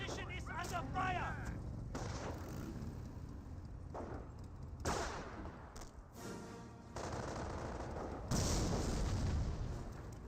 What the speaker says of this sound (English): Mortar does connect with the obstacle course, blowing a couple of the riflemen up.